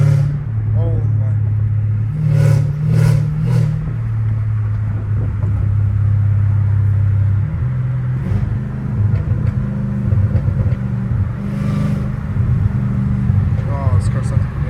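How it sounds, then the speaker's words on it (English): A Dodge car with a catless exhaust driven down a street, its engine rumbling deeply and swelling through revs and gear changes, heard from inside the cabin with someone talking over it. "I'm just gassing it down the street, bro. No, that dude for sure can hear me, bro, because I'm catless. This car sounds insane."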